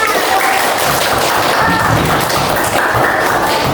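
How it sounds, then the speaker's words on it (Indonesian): A classroom of students applauds a classmate, with dense, continuous clapping held at a steady loud level for the whole stretch, and a few faint voices underneath. "kasih tepuk tangan untuk Asa"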